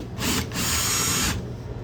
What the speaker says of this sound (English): So this is a 1/4 inch drill bit.